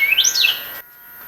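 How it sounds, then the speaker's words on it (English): A single bird sings a short, bright rising-and-falling phrase, clear and fairly close, fading into a quiet background. "Hear a bird singing to us."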